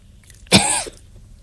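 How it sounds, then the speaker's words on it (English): A man coughs once, a short harsh burst close to the microphone during a radio show broadcast, with quiet studio background before and after. "You have coughed 4 times tonight since you've been on."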